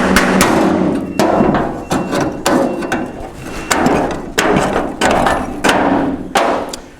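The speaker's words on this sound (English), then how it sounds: "I'm just going to get a small chisel, small hammer, and just really gently try to take this off" A small hammer driving a chisel against the steel bed side of a 1973-87 Chevy GMC squarebody truck: a string of sharp metallic knocks, close and loud, repeated at a steady uneven pace with faint ringing between strikes.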